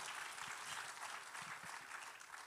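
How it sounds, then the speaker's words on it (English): A church congregation applauds in a steady, even patter of many hands, faint and somewhat distant, lasting the whole moment without a break. "Please give a hand of clap to God."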